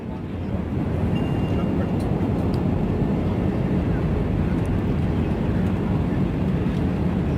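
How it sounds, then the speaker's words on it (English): Inside an Air India Airbus A319 cabin on final approach with flaps deployed, a loud, steady low engine and airflow roar fills the whole stretch, rising slightly at the start. "And now the captain has deployed the flaps."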